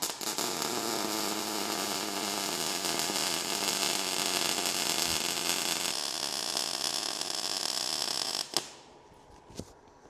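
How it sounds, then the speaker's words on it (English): A Lincoln welder runs a continuous crackling, buzzing arc for about eight seconds, loud and close, then cuts out abruptly, leaving a couple of faint clicks. "I'm gonna weld that through to start with and see how we get on with the Lincoln"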